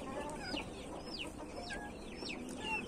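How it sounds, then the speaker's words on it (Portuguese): Chicks and a rooster that have just been let out keep up a soft, fairly distant clucking, with repeated high peeping chirps over a steady outdoor background. "Soltei os pintinhos aqui"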